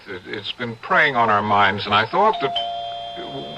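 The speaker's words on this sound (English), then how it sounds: "that's my doorbell" A doorbell chimes with a sustained two-tone ring that enters after someone speaks, continuing alone once the talking stops.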